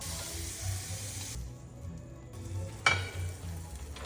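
Cheese sandwich frying in a pan, a steady close sizzle that drops away briefly mid-way, then returns with a sharp clatter before settling back into a continuous hiss.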